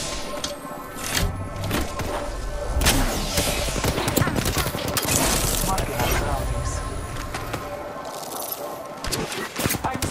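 Rapid bursts of gunfire crackle in Apex Legends: dense, overlapping volleys keep up a steady, loud barrage for the whole stretch, with a voice faintly mixed in.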